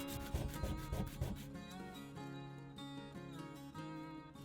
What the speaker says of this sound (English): this adjustment pin got treated to a good sanding to flatten out the back